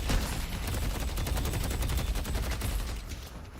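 Full-auto gunfire in the Deadlock hero shooter, a loud, rapid continuous burst of shots in a fast even rhythm lasting several seconds before tapering off.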